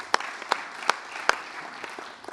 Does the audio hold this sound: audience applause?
yes